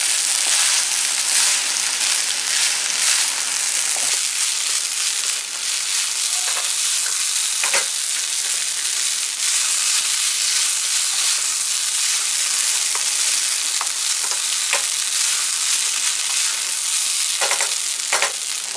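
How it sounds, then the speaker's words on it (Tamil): Vegetable tawa pulao rice is stirred in a pan over a high flame, giving a steady, loud sizzle with scraping and soft spatula strokes throughout, and no voices. "நல்லா ஹை ஃப்ளேமில் வச்சுட்டு இந்த மாதிரி கலந்து விட்டுக்கணும்."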